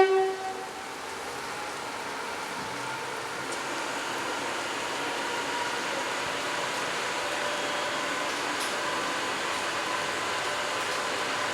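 A British Rail Class 86 (AL6) electric locomotive gives off a steady, moderately loud rushing rumble that holds evenly throughout, with no talking.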